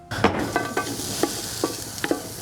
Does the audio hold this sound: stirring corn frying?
yes